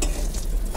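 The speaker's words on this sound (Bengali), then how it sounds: "এখন হচ্ছে বেগুন ভাজা," Eggplant slices frying in hot oil in a home kitchen, a brief close and steady crackling sizzle.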